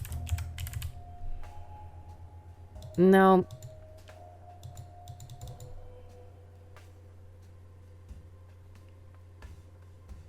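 Sparse keyboard clicks from typing in the video game Kathy Rain 2, irregular and soft, broken by one brief loud tonal game sound, with someone speaking briefly.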